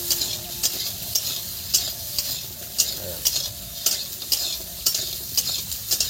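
Pointed gourd (potol) stirred in a frying pan without added oil, a loud continuous sizzle cut by regular scraping strokes of the spatula about twice a second, no talking.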